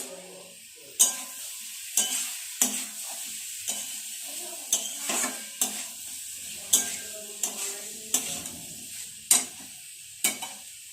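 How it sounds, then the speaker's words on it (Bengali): Puffed rice (muri) being stirred and dry-roasted in a pan over very low heat, with repeated sharp scraping strokes about once a second over a faint sizzle, close and clear with no talking. "আর একটু মুড়িটা ভাজবো"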